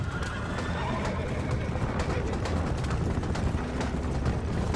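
Horses whinnying and hooves clattering as a team of four pulls a wagon in the video game Red Dead Redemption, continuous and fairly loud over a rumbling game soundscape.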